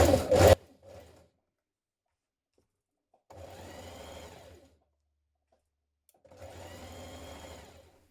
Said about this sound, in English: So we're understitching it now.